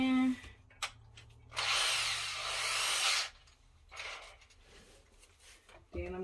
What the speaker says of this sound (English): To get this shelf on, and I'm gonna screw it down.